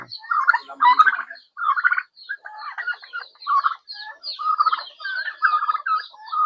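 Chicks and chickens, including Plymouth Rock birds, cluck and peep steadily on a farm that also keeps native pigs, a busy overlapping chorus of short calls close by with no talking.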